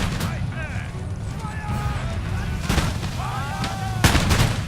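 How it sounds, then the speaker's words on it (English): Grenade volleys going off in Empire: Total War, several sharp blasts at irregular intervals over a busy battlefield din, with someone talking in between. "Grenade time, boys. Chunk them. Get those grenades popping."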